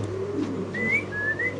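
A pair of fancy pigeons at a seller's coop coo softly, with a few thin, whistle-like tones on top, close by and fairly quiet, with no talking.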